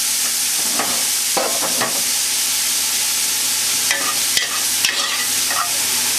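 Vegetables sweating in a very hot pot over an intense flame for a tomato pasta sauce, a steady loud sizzle with a few clinks and scrapes of stirring, with no voices.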